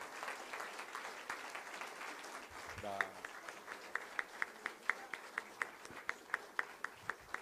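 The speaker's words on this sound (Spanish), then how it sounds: "fuertes aplausos" A Christian congregation in Santiago de Chile claps, faint and distant, settling into a steady rhythmic beat of single claps in the second half, with voices underneath.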